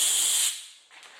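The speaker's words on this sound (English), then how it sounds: "Oscar, get the air hose. Now watch out, it might spray in your face, so be careful." A compressed-air hose sprays hard while a part from a Ferguson TED20 tractor's TVO tap is cleaned, giving a loud, sharp hiss that stops after half a second and then gives way to a fainter, shorter puff of air.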